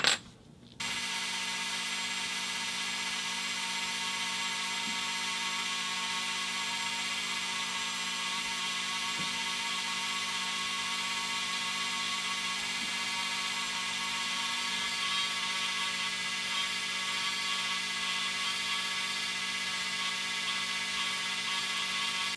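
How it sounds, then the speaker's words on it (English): A rotary tool spinning a rubber sanding wheel runs with a steady, high-pitched motor whine while detailing a 1:64 scale die-cast bus. It starts with a brief click and holds an unbroken drone for over twenty seconds. "It's a rubber sanding wheel."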